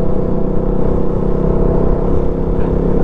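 A motorcycle rides at speed, a loud continuous low engine drone with heavy wind rumble, steady throughout without voices.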